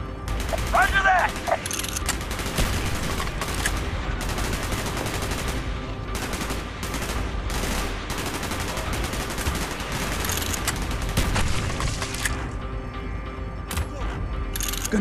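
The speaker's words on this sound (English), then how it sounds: "Gunfire's drawing attention." Gunfire in the video game Call of Duty Black Ops rattles in dense repeated bursts of automatic shots and heavy impacts over a rumbling battle backdrop, with game voices speaking among the shots.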